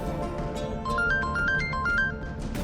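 An incoming call rings on a mobile phone, a bright repeating melodic ringtone of rising notes playing steadily and fairly loudly with no talk over it.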